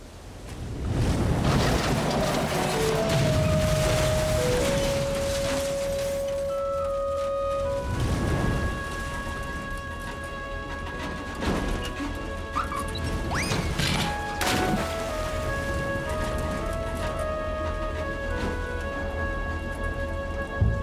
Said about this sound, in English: Let's just get out of this storm.